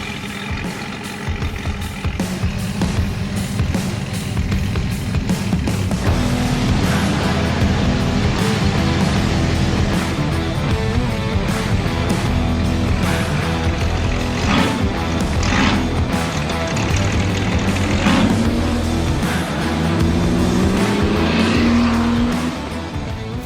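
A loud 1972 Dodge Charger with a 5.9L Magnum V8 is driven, its engine roaring steadily, swelling under acceleration, with a few brief tire chirps and squeals near the end.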